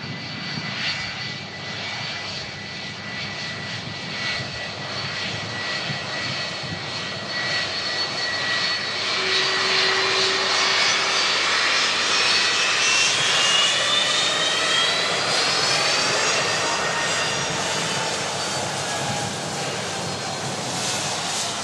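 A 24-year-old Boeing 757 jet arriving from Reykjavik, its engine roar building steadily as it approaches and passes overhead, loud and sustained with rising and falling tonal whines.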